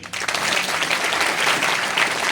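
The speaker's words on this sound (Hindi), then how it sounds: "जोर से ताली मारिए।" A large audience at a university convocation ceremony applauds loudly and steadily, a dense wash of clapping that swells in quickly and holds for the whole stretch.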